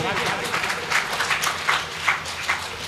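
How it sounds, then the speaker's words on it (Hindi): At a Hindi poetry gathering (kavi sammelan), the audience claps for poet Rajesh Chetan, a short, full burst of crowd applause with a few sharper individual claps standing out, and some voices mixed in. "एक बार तालियां बजाएं साहब राजेश चेतन जी"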